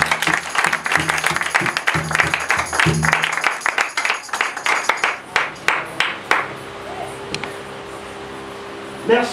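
A church congregation claps and applauds in a worship service, steady dense clapping with voices mixed in, thinning into scattered claps before trailing off.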